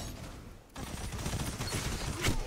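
Rapid close-range submachine gun fire from the Recluse SMG in the Destiny video game, a dense burst of shots that cuts in after a brief lull and continues loud and steady to the end.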